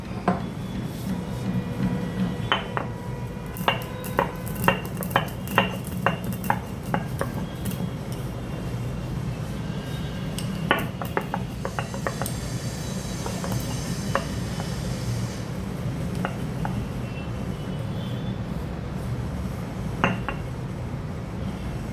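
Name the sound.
coarsely crushing black pepper on a grinding stone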